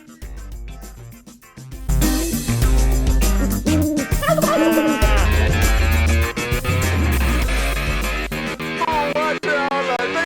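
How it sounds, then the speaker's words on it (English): Birds gobbling loudly and repeatedly at close range, much like turkeys, with a burst of overlapping calls that carries on almost without a break. "They can glide almost like a wild turkey. So they're pretty cool birds."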